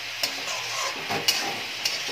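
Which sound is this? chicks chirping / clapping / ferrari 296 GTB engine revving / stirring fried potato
stirring fried potato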